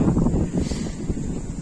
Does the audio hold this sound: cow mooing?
no